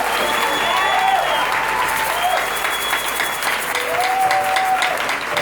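A church congregation applauding in acclaim of God, dense sustained clapping filling the room at full volume, with a few voices calling out and sustained tones ringing over it.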